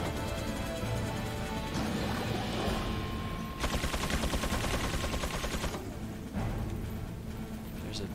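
A mounted turret machine gun fires in Resident Evil 4, a dense continuous rattle of rapid shots with crashing impacts, loud and sustained, with a brief burst and then steady fire.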